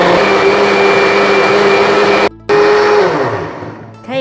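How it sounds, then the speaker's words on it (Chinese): A countertop blender purees peanuts with water in a loud, steady whir that drops out briefly, restarts, then winds down as the motor slows. "开始搅拌。"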